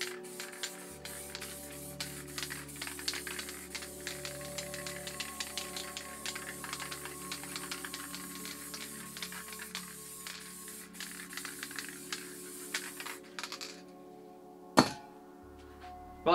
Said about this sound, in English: I'm just going to spray over it with the black